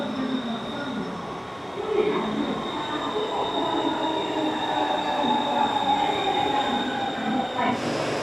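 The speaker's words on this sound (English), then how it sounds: "Here comes the train." A Bangkok MRT train pulls into a busy central-city platform. A loud, steady rumble of wheels and motors carries a high metallic squeal throughout, with no clear talking.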